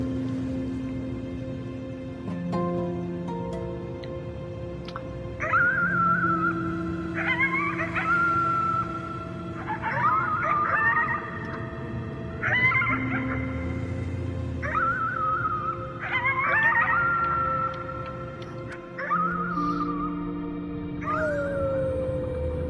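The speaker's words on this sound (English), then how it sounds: "You howled at the moon at the top of your lungs." A character howling at the moon in the video game Before Your Eyes, heard as a series of wavering, tonal howls and whimpers that rise and fall alone over a low ambient backdrop for about twenty seconds.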